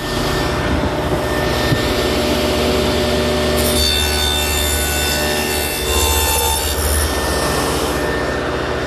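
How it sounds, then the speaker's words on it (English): Table saw fitted with a 1/4 inch dado head cutting a groove along the edge of plywood, a loud steady whining roar sustained throughout, close and alone, with a slight change in pitch midway as the cut proceeds. "I've set up the saw with a 1/4 inch dado head cutter"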